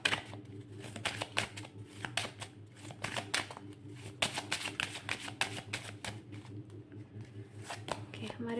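Tarot cards shuffled in a past-life reading session, a busy run of crisp papery riffles and flicks throughout, with a low steady hum and faint background voice beneath.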